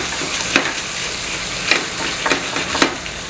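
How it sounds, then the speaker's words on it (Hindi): Fresh tomato puree being fried and stirred with spices for a dal tadka: a continuous sizzle broken by a few sharp spatula scrapes against the pan, close and fairly loud, with no voices. "साथ में मैं डाल रहा हूँ एक टमाटर की प्यूरी फ्रेश, उसको भी मिक्स करके अच्छे यहाँ से भूनेंगे"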